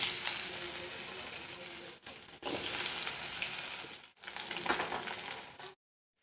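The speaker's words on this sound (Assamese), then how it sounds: "এতিয়া মই আলুখিনি ফ্ৰাই কৰিম। ফাৰ্ষ্টতে ভালকৈ ফ্ৰাই কৰিম।" Potatoes fry in hot oil in a home kitchen, a steady loud crackling sizzle with brief stirring breaks, close up and without talk, cutting off near the end.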